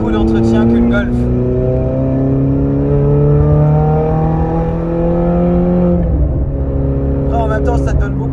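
Ferrari sports car engine revving hard while driving, a loud sustained rising drone with a sharp drop near the end, heard from inside the car with someone talking over it.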